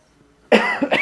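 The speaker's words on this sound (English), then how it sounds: "giving me a bit of a cough" A single sharp, close cough bursts out after near silence, followed by a quick second cough.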